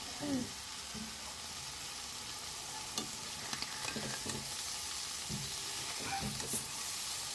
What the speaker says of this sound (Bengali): আবার মা একটু নেড়ে দিচ্ছে।